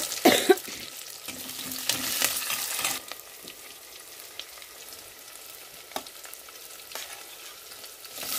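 Small onions and curry leaves frying for a curry give a burst of loud sizzling at the start, then settle into a softer, steady hiss with occasional stirring clicks, with no voices.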